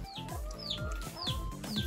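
A chicken clucks repeatedly in short, close bursts, with rising chirpy notes in between.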